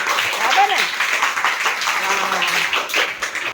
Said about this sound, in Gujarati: ચાલો તો એક વાર તાળી પાડો